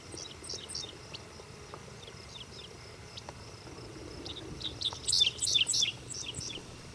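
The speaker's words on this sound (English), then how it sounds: "The dick sissel is a small grassland bird that resembles a miniature meadowlark." A dickcissel, a small grassland bird resembling a miniature meadowlark, sings a short series of sharp, high chirps, strongest near the end, over a steady background of insect buzzing in tallgrass prairie.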